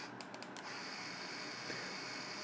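A small cordless electric screwdriver with a 1500 mAh battery whirs steadily and alone, its motor hum shifting as it runs through three speed settings from slow to fast in both directions, with a faint clicking ratchet texture.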